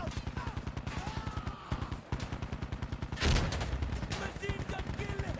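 Sustained machine gun fire in the video game Insurgency: Sandstorm rattles out in rapid, evenly spaced loud bursts, with a brief pause and a heavier blast midway before the rhythmic firing resumes.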